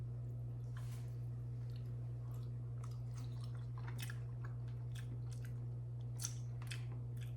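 Fresh mozzarella being tasted, with quiet wet chewing and small squishy mouth clicks close up over a steady low hum, no talking.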